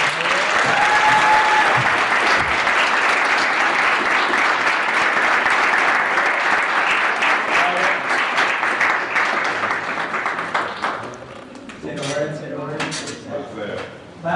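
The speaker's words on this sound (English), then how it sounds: "Clap it up again." Sustained loud audience applause at a poetry slam, a dense crowd of clapping that fills most of the stretch before thinning and tapering off near the end.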